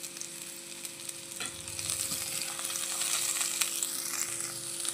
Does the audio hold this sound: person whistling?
no